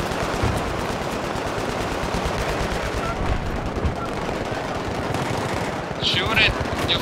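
Rapid continuous machine-gun fire in a military video game battle on a Tehran map, loud and sustained throughout, with a player's voice speaking over the shooting.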